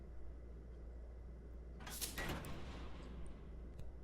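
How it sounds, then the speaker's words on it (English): A red door slides open in the game Able Black: Sleepwalker, a single brief mechanical whoosh and scrape rising out of a steady low ambient hum, then fading back into the drone. "The red door opens."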